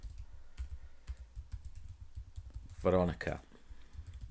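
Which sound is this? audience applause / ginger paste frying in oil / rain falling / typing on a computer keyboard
typing on a computer keyboard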